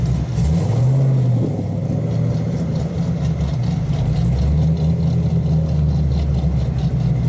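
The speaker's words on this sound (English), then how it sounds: "that C6 sounds insane" A Chevrolet Corvette C6 V8 rumbles steadily at close range with a deep, loud idle, briefly blipping upward early on before settling back into a low, continuous burble.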